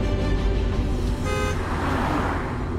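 A car engine rumbles close by amid road noise, with a brief horn toot partway through as the vehicle pulls up.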